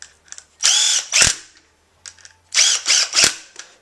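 A power drill tightens screws into the posts of a minimalist skeleton holster in short bursts: a brief buzz, then two close whirring runs, a pause, and three more quick whirs, close and loud.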